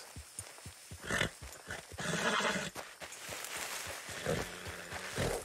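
A horse in Red Dead Redemption 2 whinnies loudly with a shrill, drawn-out neigh among sharp clip-clop hoofbeats and thumps, close and busy.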